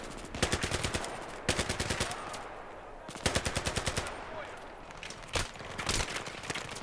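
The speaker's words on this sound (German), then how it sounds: "Dauerfeuer, okay." Sustained machine gun fire in the video game Battlefield 3, with several loud rapid bursts of automatic shots separated by short pauses, each rattling run a few seconds long.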